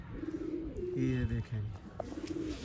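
A breeder pigeon coos in repeated low, rolling phrases close to the recorder, while someone speaks briefly between the calls.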